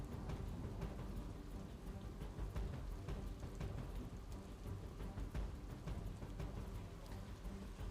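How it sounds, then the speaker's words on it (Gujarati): Heavy monsoon rain pours down in Mahuva, Bhavnagar, Gujarat, making a loud, dense, continuous roar with scattered sharp drop impacts throughout, and no voices over it. "ધોધમાર વરસાદ છે"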